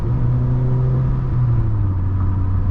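A Volkswagen Polo GTI lookalike car accelerates hard, its engine droning in a steady low rumble that climbs slightly in pitch, heard from inside the cabin with no talking.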